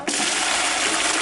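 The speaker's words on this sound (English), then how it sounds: "Just in order to flush the toilet." A toilet in Quito, Ecuador flushes with a loud, close, continuous rushing gush of water that starts abruptly and holds steady without talk.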